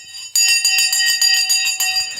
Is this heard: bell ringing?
yes